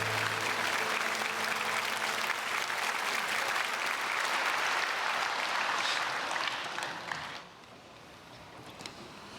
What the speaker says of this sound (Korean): 깨와의 박수, 감사의 박수 올려드리겠습니다.